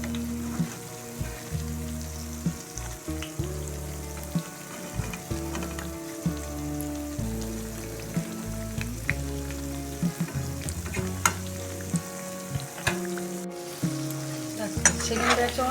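A batch of fritters made from pea pod peels frying in hot oil, giving a steady, crackling sizzle with scattered sharp pops and spatters throughout, close and continuous with no talking.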